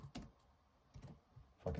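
Typing on a computer keyboard comes through as a few short, soft clicking bursts separated by quiet pauses, close by with no voices.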